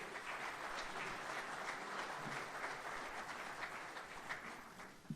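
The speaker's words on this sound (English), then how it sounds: "How about a big round of applause, ladies and gentlemen, for Dr. Paul Weir." Applause from the audience at an annual awards ceremony, a dense, even wash of many hands clapping in a large room, sustained and somewhat distant, with no talking over it.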